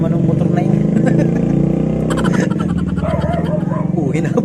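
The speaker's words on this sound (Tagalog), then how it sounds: "Anong ingay baga naman ng motor na yun?" A motorcycle engine drones and revs nearby under close talking, with a dog barking briefly as it passes.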